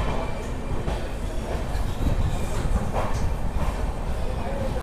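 Passenger train on the Kolkata to Sairang route pulling out of Malda Town station, a steady loud rumble of wheels on rails with faint rhythmic clatter throughout, and a voice speaking over it.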